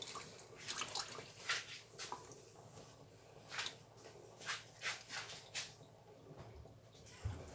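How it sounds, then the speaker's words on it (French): Water simmering in a cooking pot for salted fish with okra and black mushrooms makes soft bubbling pops and drips, faint and close, in irregular bursts. "l'eau est en train de frémir"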